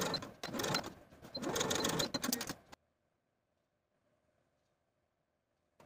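A sewing machine runs in bursts of stitching on the shoulder seams of a 1960s vintage dress, sewn with a 5/8 inch seam allowance. It stops after about three seconds and near-silence follows.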